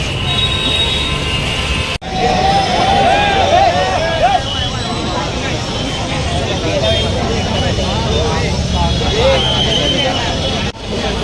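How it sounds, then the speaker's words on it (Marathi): Dense crowd noise and steady rain hiss fill a street at a Ganpati arrival procession in Parel, with a continuous roar and scattered voices throughout, cut by brief breaks near the start and end. "तुम्ही बघू शकता प्रचंड गर्दी आणि त्यामध्ये पाऊस"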